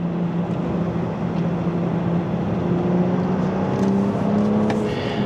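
A 2025 Toyota GR Supra or Corolla held in third gear on a race track, a steady droning engine note with a faint rising pitch, heard close and constant with no voices.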